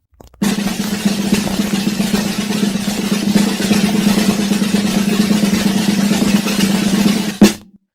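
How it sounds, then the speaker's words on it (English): A snare drum plays a sustained multiple-bounce buzz roll, a dense continuous rasping hum that holds steady for about seven seconds before ending with a sharp accented stroke. "The multiple bounce or buzz roll is accomplished by pressing the stick into the head and letting each stroke bounce more than 2 times."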